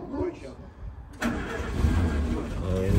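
A tracked jeep's engine cranks and catches partway through, then settles into a rough, loud running idle, with a voice talking over the start.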